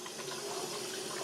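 Water runs steadily into a Berkey black filter element being primed, a faint continuous hiss and gurgle of filling with no voices.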